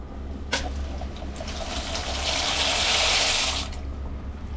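A steady watery rushing and bubbling of a pot of water boiling for pasta swells in the middle and fades, over a low constant hum, with a faint click near the start.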